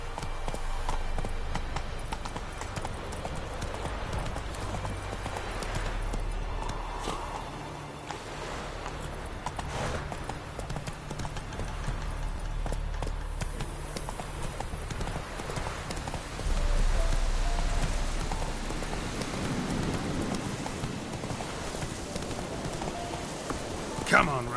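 Roach the horse gallops in The Witcher 3, a steady clip-clop of hooves on the ground under game ambience, with a voice briefly heard.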